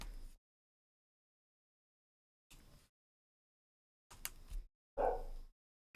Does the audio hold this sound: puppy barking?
yes